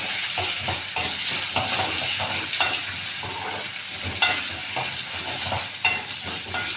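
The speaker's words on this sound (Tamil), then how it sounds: "எல்லா வெங்காயத்தையும் போட்டு ப்ரௌனிஷ் கலர் வர கொஞ்சம் அப்படியே ரோஸ்ட் பண்ணணும்." Chopped onions sizzle steadily in a hot pan while being roasted toward brown for a Tamil kulambu, with a spoon stirring them in repeated scraping strokes throughout, close and continuous, no voices.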